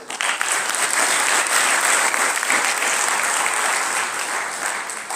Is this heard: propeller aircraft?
no